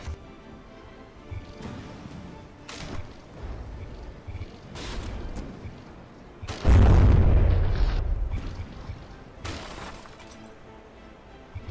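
A warship's small secondary guns fire in the naval combat game From The Depths, sending out sharp, spaced booms over a low background rumble, with one heavier crashing blast partway through.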